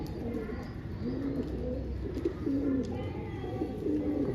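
A pigeon perched on a rooftop water tank coos softly several times in a low, repeated rhythm over a constant background hum, with faint high chirps now and then.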